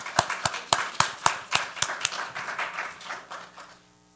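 A small audience claps to welcome a speaker to the stage at an academic conference, a steady run of distinct claps that thins out and fades within a few seconds.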